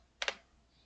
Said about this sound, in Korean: 키보드로 그냥 조정할게요.